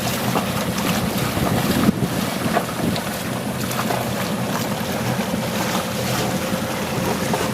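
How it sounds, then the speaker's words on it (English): A sailboat motors across the sea between Marquesas islands, its engine hum mixed with sloshing waves and gusts buffeting the microphone, steady throughout with occasional thumps. "We're just motoring a short distance to Tahuata"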